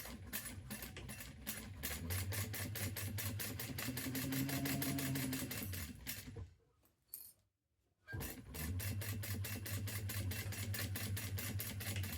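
A sewing machine stitches a Lady Dior inspired bag, running with a fast, steady mechanical chatter that stops briefly, then starts again at the same even pace. The sound is close and there is no talking.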